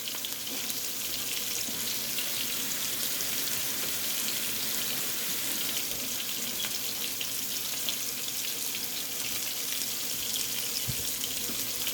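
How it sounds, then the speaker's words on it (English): A kitchen tap runs continuously while hands are washed under it, a steady broad hiss of splashing water into a sink, close and loud throughout with no speech. "Let me wash my hands."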